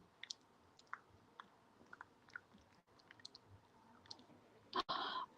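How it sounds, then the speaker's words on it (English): A puppy chews steadily, a string of faint, close clicks and crunches spaced unevenly, ending in a louder burst of chomping at the very end. "Well, we're going to chew, are we?"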